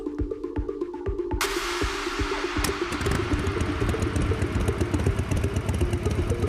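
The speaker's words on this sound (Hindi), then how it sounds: "देविका ने अपनी बाइक पार्क की और सीधा अपने घर में घुस गई" A motorcycle engine runs with a steady, close, clattering idle-like rumble, throttling slightly before settling, with a broad hiss joining partway through; no voices are heard.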